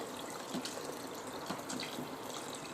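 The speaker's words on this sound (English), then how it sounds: "just add the water, and I just add it till it's almost to the max fill line" Filtered water pours steadily into an Instant Pot, a soft continuous gushing and splashing at low volume with no voices.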